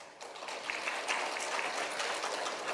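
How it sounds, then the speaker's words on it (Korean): Soft, steady applause from an audience at a Korean literature symposium at the National Library of Korea, welcoming a speaker to present, even and somewhat distant throughout. "박수로 맞이해 주시면 고맙겠습니다."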